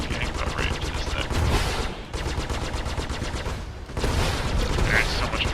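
Sustained rapid gunfire in the space combat game Star Citizen, dense bursts of automatic fire and blasts crowding the scene with brief lulls, loud and continuous throughout.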